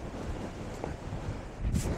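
Strong wind buffets the microphone on open Dartmoor moorland, a steady loud rumbling roar with no pauses and a slightly heavier gust near the end.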